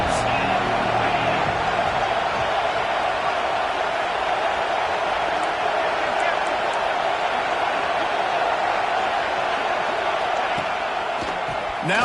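Steady, dense roar of a stadium crowd in a college football video game, Georgia versus Tennessee on a big third down, a continuous wash of cheering held at an even level throughout with no talk over it.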